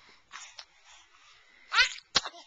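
A young child sneezes, with a small breathy lead-in followed by a sharp burst, then a second short burst of sneezing close up in a quiet room.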